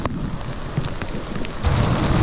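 Steady rain patters on surfaces with scattered drops, growing heavier toward the end, heard outdoors while cycling in Australia.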